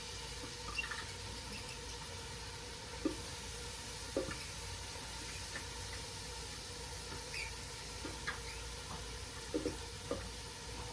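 Onions sizzling in hot oil in a pan, a steady, quiet crackling hiss throughout with occasional small pops and stirring clicks, no voice.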